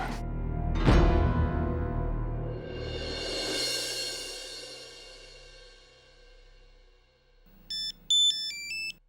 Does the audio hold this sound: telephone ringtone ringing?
yes